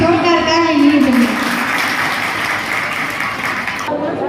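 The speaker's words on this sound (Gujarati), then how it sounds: "એના માટે જોરદાર તાળી લીધી।" An audience at a Sorathiya Prajapati community general meeting in Rajkot claps in a loud, dense burst of applause that tapers slightly, starting under a voice speaking over a PA.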